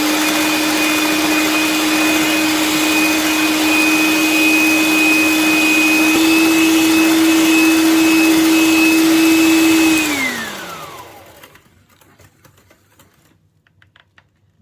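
An electric mixer beats carrot and walnut cake batter with added oil and milk, a steady, loud motor whine holding for about ten seconds before it winds down to silence.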